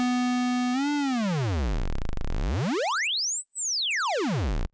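A bright synth oscillator tone on a modular synthesizer, its pitch modulated by a sine-wave LFO, swoops low, then sweeps up to a high peak and back down in one smooth arc, loud and alone, its pitch rising and falling.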